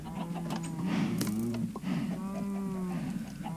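Minecraft cattle moo in drawn-out, low calls, one overlapping another, with a soft background hum underneath.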